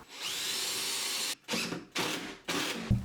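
A power drill driving a screw at an angle into a wall stud whirs steadily for over a second, then runs in three shorter bursts with brief pauses, close and loud.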